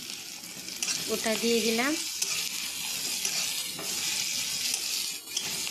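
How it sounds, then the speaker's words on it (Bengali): A paste of ground mustard, cumin and garlic fries in a pan for a simple Bengali fish curry, giving a steady, close sizzle with stirring. Someone speaks briefly near the start. "হালকা একটু ভেজে নেব।"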